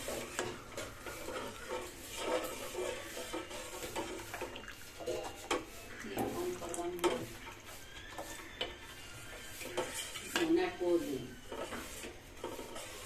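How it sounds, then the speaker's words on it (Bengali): Salted milk is stirred in a pot for milk-soaked malpua, soft swishing and occasional scrapes of a spoon against the metal, with a person talking over it throughout. "একটু নাড়িয়ে চাড়িয়ে নেব যাতে লবণটা খুব সুন্দরভাবে দুধের সাথে গুলে যায়"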